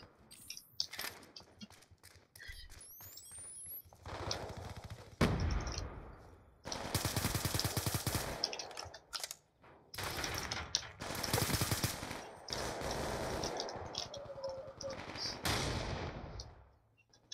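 Rapid automatic SCAR rifle fire in Black Ops 2, several loud sustained bursts separated by short pauses, with sharp individual shots between them and no talking.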